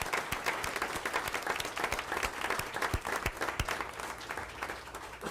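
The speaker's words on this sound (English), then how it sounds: "Let's give these three leaders a big round of applause for their work." An audience at a regular board meeting applauds three leaders with a full, sustained round of clapping, loud and close, with individual claps standing out above the crowd and easing slightly toward the end.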